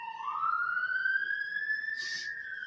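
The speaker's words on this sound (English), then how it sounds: "Very sorry you can hear the sirens in the background." A single police siren wails upward and holds a steady high tone, clear but somewhat distant, with no voices over it.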